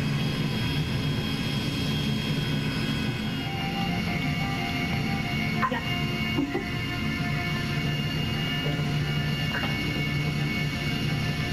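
Airplane engine in GTA Online, a steady droning roar running through the whole stretch with a couple of brief clicks, fairly loud and alone.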